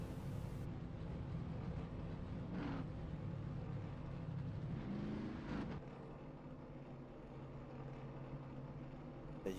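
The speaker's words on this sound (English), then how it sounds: "Did you hear the engines are fired?" Race car engines fired in a sim racing video game before a main event, a continuous low engine drone that sits steady, briefly swells with a rising rev near the middle, then settles to a lower idle.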